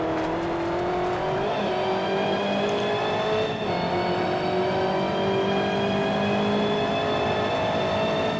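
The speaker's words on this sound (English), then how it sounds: "It's an Lancia Delta, but honestly, because of the noise it made, we just nicknamed it the kettle car" A Lancia Delta engine in Forza Horizon 1 drones steadily and loudly throughout, with a rising, kettle-like harmonic whine like a revving motor held at high pitch; no talking.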